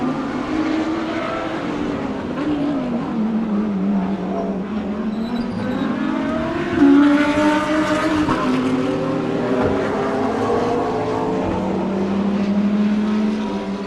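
Race cars, including a Lamborghini, roar past at Dezzi Raceway in a circuit race, a steady, fairly distant engine drone that swells as cars pass, with no talk.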